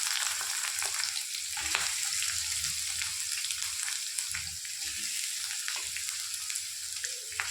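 Dried red chillies, onions and tomatoes sautéing in a pan for a tomato chutney, with rock salt added. A steady, close sizzle runs throughout, broken by scattered clicks and scrapes of stirring.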